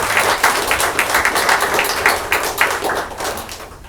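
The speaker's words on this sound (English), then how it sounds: "let's give a round of applause and appreciation for our school board members" A round of applause at a Georgia school board of education meeting, a steady burst of many hands clapping close by for about four seconds.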